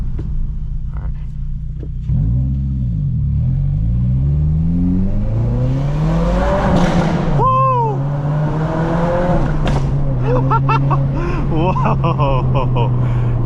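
A 2023 Subaru WRX tuned to 300 wheel horsepower accelerates hard inside a tunnel, recorded from inside the cabin. The engine drones deeply, then sweeps up through repeated rising revs as it shifts through the gears, and the tunnel walls reverberate the sound loudly.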